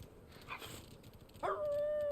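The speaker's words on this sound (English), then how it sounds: "Those are some nasty looking dogs." Snarling dogs in the video game Final Fantasy XVI: a faint growl and short whimpering yelp, then a sharp rising whine that trails into a steady tone, heard quietly against soft game background.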